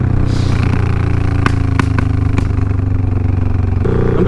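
A Suzuki M109R cruiser motorcycle engine roars loud and steady up close, a constant low rumble with a few sharp clatters and a shift in pitch near the end.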